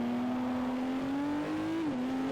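Race car engines in Forza Motorsport 4 drone steadily and loudly throughout, one engine holding a sustained pitch that rises slowly, then drops briefly and settles again, with no talk over it.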